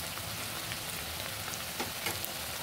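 Oil sizzles densely and evenly while ingredients fry for mutton kasa, a continuous close crackle with a few brief louder pops.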